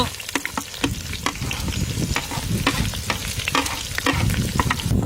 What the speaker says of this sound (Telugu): 2 చిన్న సైజు బిర్యానీ ఆకు ఈ మొత్తం ముందు నూనెలో వేసుకుందాం